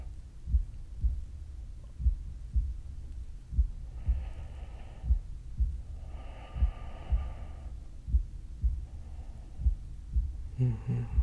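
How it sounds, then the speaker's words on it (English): A heartbeat pressed close in a quiet, intimate setting: steady low thumps in a regular rhythm of roughly one beat per second, loud and near, with faint murmuring sounds passing over it at intervals. "I can feel your heartbeat"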